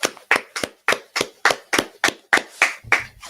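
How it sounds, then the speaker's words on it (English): An audience claps hands in a steady rhythm, about a dozen sharp, evenly spaced claps, close and fairly loud, with no talk. "Let's clap it up, man."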